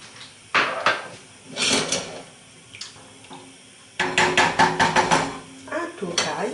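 Semolina being stirred into boiling milk in a pot: soft scraping and clinking of a utensil against the pot in irregular bursts, with quiet wet bubbling between strokes, fairly close and low in level.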